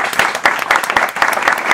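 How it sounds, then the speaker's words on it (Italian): A crowd at a symbolic wedding ceremony breaks into loud, sustained applause, dense hand clapping close by with faint voices mixed in. "vorrei un applauso grandissimo"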